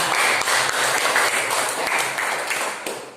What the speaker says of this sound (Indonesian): Kalau sudah siap, beri tepuk tangan untuk kalian dan semangat.